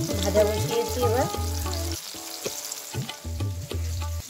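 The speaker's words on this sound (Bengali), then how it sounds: "লুচিটা সরষের তেল দিয়েই ভাজলাম, সাদা তেল আনা হয়নি, সরষের তেল ছিল, সরষের তেল দিয়ে ভেজে নিলাম।" Luchi, puffed flatbreads, fry in hot mustard oil with a continuous bubbling sizzle and occasional stirring scrapes, close up and alone.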